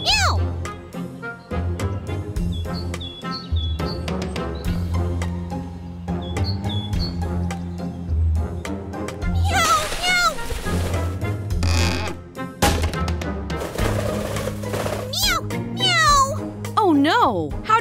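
Voices imitating cat meows during toy pretend play, a long run of high, sing-song meows from one and then several playful voices, close and loud, some rising like questions, with chirpy bird-like squeaks mixed in.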